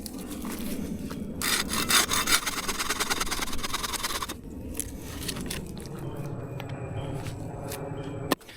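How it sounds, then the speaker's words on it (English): Hand saw cutting through firewood at a riverside camp in the Florida jungle, steady back-and-forth rasping strokes, loudest in the first few seconds and then easing into softer, slower cuts, close and alone without talk. "we're gonna cut some firewood up"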